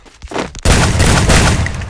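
Gunfire in the video game Free Fire: a short thump or two, then a loud dense burst of rapid shots that continues steadily, close and without speech.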